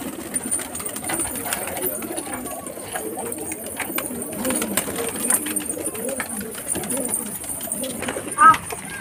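Pigeons pecking at grain coo softly in a low, steady murmur just after a day of rain, heard faintly beneath nearby people talking.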